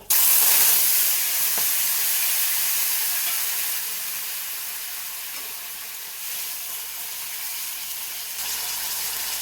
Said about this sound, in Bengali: তেল গরম হয়ে গেছে, এবার একটু দিয়ে দেবো কালো জিরে, দিয়ে দেবো টমেটো